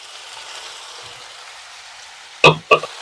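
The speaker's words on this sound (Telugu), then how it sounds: "ఇప్పుడు ఈ మసాలా కూడా కొంచెం వేగాలి" Masala frying in hot oil in a pan on a stove, a soft steady sizzle running underneath, broken near the end by two short spoken bursts.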